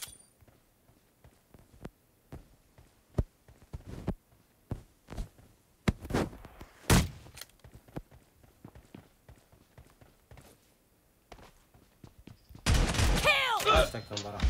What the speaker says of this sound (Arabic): ليش انا عم بضرب طلقة طلقة؟